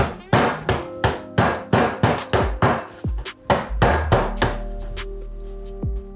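Ice is crushed finely for a bourbon pineapple mule cocktail with about fifteen sharp, loud, evenly spaced pounding whacks, each trailing a short rattle, ending in a couple of lighter knocks.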